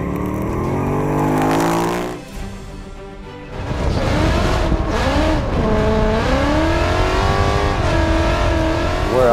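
Supercharged 2018 Ford Mustang GT with a Roush supercharger making 700 horsepower, the engine loud and close as it revs up, dips briefly, then climbs again through rising and falling revs with a whining tone.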